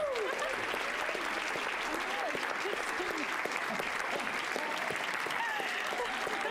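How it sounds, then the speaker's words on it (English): A studio audience at a late-night talk show keeps up soft, continuous applause from start to finish, with a few voices murmuring underneath. "Why are they clapping? What are they clapping for?"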